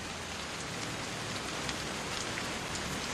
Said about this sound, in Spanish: lluvias rápidas y torrenciales se suceden con periodos de intenso sol